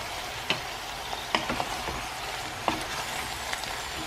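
Soft steady sizzling of potatoes frying in a pan, with a few sharp clicks and scrapes scattered over the hiss; no talking.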